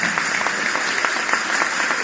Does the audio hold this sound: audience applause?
yes